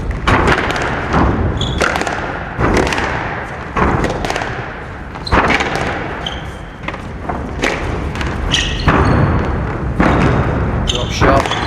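A squash rally at the 1998 British Nationals, with repeated hard thuds of the ball striking racket and walls in quick succession, squeaking shoes, and crowd noise with a commentator talking over it.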